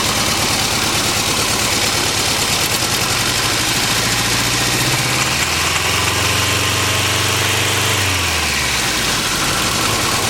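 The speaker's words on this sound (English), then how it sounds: "Engine stumbling around a little bit." A car engine with a blown head gasket idles loudly and continuously, its low rumble uneven and stumbling throughout.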